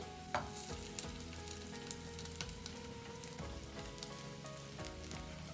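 Chicken pieces added to a pan of oil with well-fried garlic and curry leaves for Chicken 65, giving a dense continuous sizzle with occasional sharp clicks of stirring, close up and without talk.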